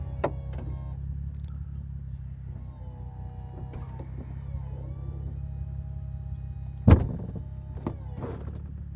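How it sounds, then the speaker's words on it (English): Power windows on a 2011 BMW Z4 E89 hardtop convertible rise as the roof closes, a faint electric motor whine over low steady hum, with a sharp thunk near the end and a few lighter clicks. "Windows going up."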